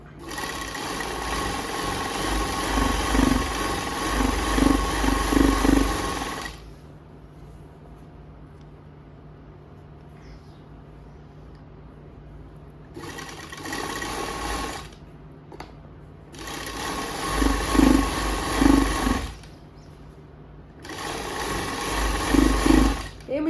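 A new sewing machine stitching a kurti seam runs in several long bursts, loud and close, with quieter pauses in between where a voice may be talking.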